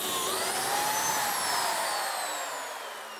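A biscuit joiner cuts a slot in wood for a waffle ceiling, giving one steady, loud, high-pitched motor whine that holds for about three seconds and then begins to wind down.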